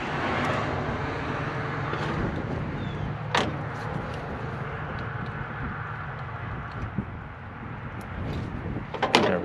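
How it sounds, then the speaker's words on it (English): A 1st gen Cummins diesel engine cranks over in a steady, continuous low churning that carries on for several seconds, with a few brief clanks and clicks on top, heard close by. "just the motor spinning over is a huge plus for this build so far"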